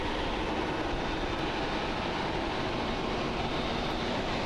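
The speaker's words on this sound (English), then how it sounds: "That right there is All Nippon Airways, Flight 589, pushing back for departure to" Steady broadband roar of an All Nippon Airways airliner pushing back for departure at Haneda Airport in Tokyo, a continuous engine and apron rumble with no pauses.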